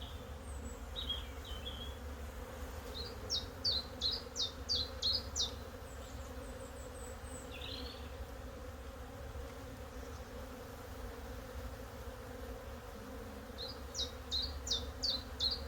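Honey bees hum steadily around an open hive in a low, continuous drone, while faint bird chirps come and go above it.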